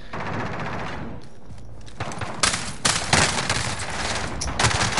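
Gunfire in a video game comes as dense, loud bursts of rapid automatic shots, layered and continuous across the clip with sharper volleys toward the end.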